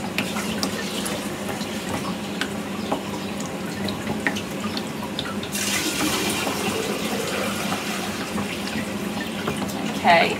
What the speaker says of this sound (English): I'm going to obviously start, very importantly, by adding some water to the